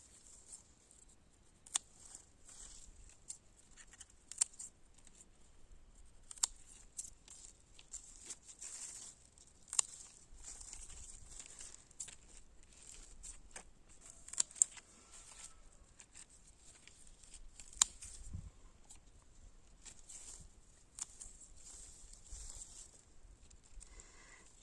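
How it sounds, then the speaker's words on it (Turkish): Scissors snip sorrel leaves in a faint, irregular series of small crisp cuts and rustles, close but quiet, with soft leafy handling between the snips. "Bunu da makasla hemen yapraklarını keseyim."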